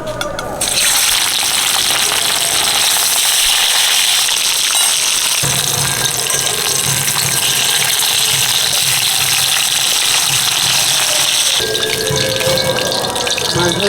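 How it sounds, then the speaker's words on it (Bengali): Datne fish frying in hot oil in a home kitchen, giving a loud, steady, hissing sizzle that runs throughout with small shifts in intensity. "তেল দিয়ে দিলাম মাছটা ভেজে নিচ্ছি"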